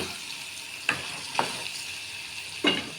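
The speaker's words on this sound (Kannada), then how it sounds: "ಇದು ಬೇಯಲಿ ಸ್ವಲ್ಪ ಹೊತ್ತು." Soft continuous sizzle of chickpea usli cooking in a pan, broken by three spaced scrapes of a spoon against the pan.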